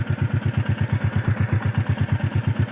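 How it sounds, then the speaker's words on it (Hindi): Royal Enfield Meteor motorcycle idling close by, a steady low thumping single-cylinder pulse with even rhythm and light mechanical clatter, no voices. "अब वो मैं इसके लिए बाइक स्टार्ट करूँगा"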